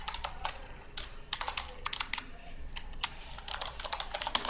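Code is typed on a computer keyboard while writing a Java program in NetBeans, a quick, irregular run of close, crisp key clicks with no talking.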